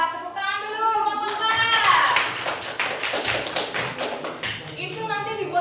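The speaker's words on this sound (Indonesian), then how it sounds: "Tepuk tangan dulu kelompok" Classroom students clapping for a group during a guidance lesson, scattered taps and claps over a busy background of children's voices and talking, fairly loud and close.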